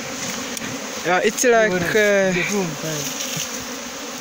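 Steady buzzing from many honeybees being moved from a traditional hive to a modern hive fills the background, continuing under a brief stretch of speech in the middle.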